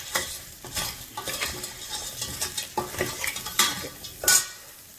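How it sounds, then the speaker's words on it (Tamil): Crab soup ingredients being stirred and tossed in a pan, with repeated scraping strokes, light sizzling and occasional clinks of a utensil against the metal, close and fairly loud. "சேர்த்து சும்மா பெரட்டுங்க"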